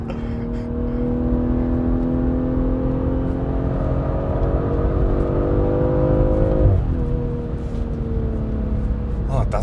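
A BMW with a B58 engine accelerates hard on a track, its steady engine drone rising in pitch, dipping briefly at a gear change and then climbing again, heard from inside the car with occasional talk.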